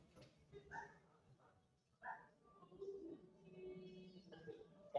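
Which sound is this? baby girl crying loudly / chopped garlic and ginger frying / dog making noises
dog making noises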